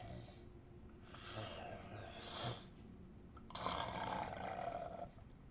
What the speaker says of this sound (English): snoring Yeti